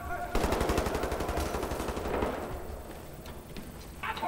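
Rapid, loud gunfire from a shotgun in the first-person shooter Wolfenstein: The New Order, a sustained burst of close blasts that fades into quieter game ambience.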